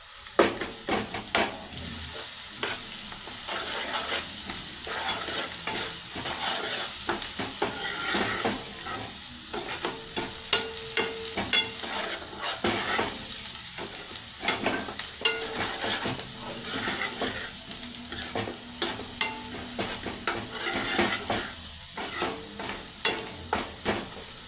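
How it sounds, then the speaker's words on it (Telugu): Ginger garlic paste sizzles steadily in a hot pan while a spoon scrapes and stirs in irregular taps, continuous frying hiss throughout, no voices. "అల్లం వెల్లుల్లి పేస్ట్ వేస్తాను ఇప్పుడు"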